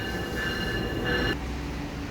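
Tegal Bahari business-class passenger train running, a steady close rumble of rolling wheels with a sustained metallic ringing squeal that cuts off partway through.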